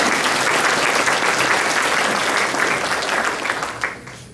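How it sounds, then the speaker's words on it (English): An audience claps steadily for Supervisor Pauv at a Hmong community gathering in Merced, a dense, full round of applause that holds strong before thinning slightly toward the end. "let's give him a round of applause"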